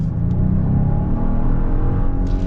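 A 2022 Genesis GV70 3.5T SUV accelerates in Sport Plus mode, its engine a deep, steady rumble heard close from inside the cabin, with no voices over it.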